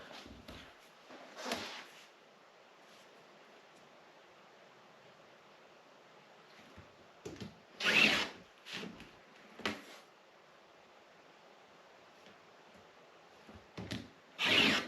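Several short rasping cuts of a blade slicing strips from a sheet, a few bursts spaced apart and louder near the end, over a quiet background.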